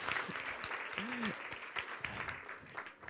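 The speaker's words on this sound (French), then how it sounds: "je vous demande d'accueillir Raphaël Janson sous vos applaudissements, s'il vous plaît." An audience applauds to welcome a speaker, with scattered claps forming a moderate, fairly distant patter and a brief voice over the clapping.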